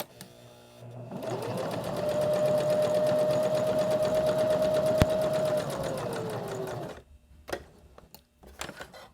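A sewing machine stitches polar fleece in one steady run of rapid, even needle strokes lasting several seconds, then stops, followed by a few scattered clicks and handling taps.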